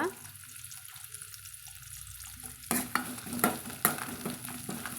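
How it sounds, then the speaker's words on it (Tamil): Fenugreek seeds fry in oil with a little curry leaf, giving a faint, steady sizzle, then a series of sharp stirring clacks and scrapes against the pan. "நம்மளுக்கு இந்த வெந்தயம் வந்து இது போல் பொன்னிறமாக தான் இருக்கணுங்க"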